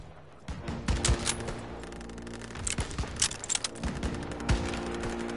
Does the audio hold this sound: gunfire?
yes